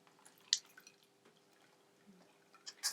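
Tamarind water is poured through a strainer in a quiet kitchen, giving a few faint, scattered drips and small splashes, the clearest near the start and the end.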